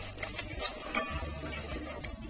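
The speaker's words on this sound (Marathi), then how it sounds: "कमी गॅसवर 1 मिनिट असं परतत राहायचे, खाली चिकटून द्यायचं नाही" Chana masala spices being stirred in a pan over low heat make soft, close scraping and shuffling sounds over a gentle, quiet sizzle, with no talking.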